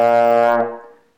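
A single low buzzed note played on a trombone, held steady and rich in overtones for about half a second before cutting off and fading.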